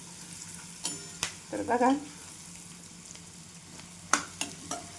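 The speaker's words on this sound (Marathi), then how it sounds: "अशा पद्धतीने आपल्याला छान भाजून घ्यायचा आहे कांदा वगैरे." Onion, roasted chickpeas and turmeric frying in a pan, with a low steady sizzle, a few sharp clinks of a spoon against the pan and a short burst of stirring scrapes, while a voice speaks briefly.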